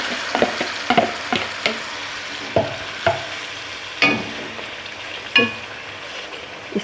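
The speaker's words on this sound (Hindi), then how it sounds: "अब जो फ़िश हमने मैरिनेट करके रखी थी 3-4 घंटे के लिए, वो हम इसमें ऐड कर देंगे मसाले के साथ ही" Marinated fish goes into dry masala in a pan for fish curry, giving a soft background sizzle broken by a series of sharp clinks and scrapes from a spoon stirring at irregular intervals, close up and without talk.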